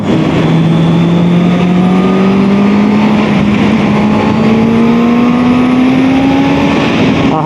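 A Honda CB650R motorcycle engine revs loud and close, its pitch climbing steadily through the revs as it accelerates, continuous and alone without talk.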